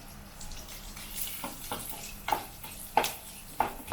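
Cumin seeds and dried red chillies fry in hot oil with a steady low sizzle, broken by several sharp pops and crackles toward the end.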